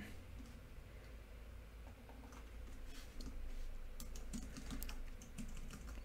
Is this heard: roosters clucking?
no